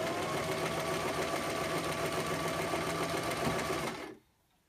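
A sewing machine stitches a fabric seam for a ruffle skirt with a steady, fast whirring hum and rhythmic needle clatter, close and continuous, then stops abruptly near the end into near silence.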